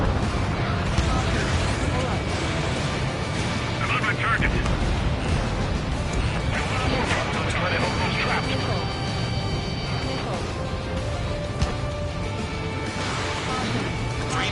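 Missile explosions and gunfire in a jet combat video game, a dense, continuous roar of booms and rattling shots with jet noise, loud and close throughout, while voices talk over the action.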